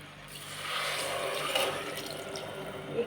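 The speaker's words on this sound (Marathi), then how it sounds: "1 तांब्या पाणी टाकलं" Water poured from a tumbler into a pot of home-style Marathi khichdi made with rice, chana dal and urad dal, giving a steady pouring wash that rises and falls over a few seconds, close and fairly loud.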